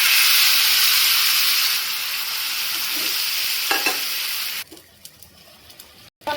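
Beef added to a pan of deep-fried onions, loud continuous sizzling and hissing that eases slightly, then breaks into softer crackles and stirring clatter near the end; no talking.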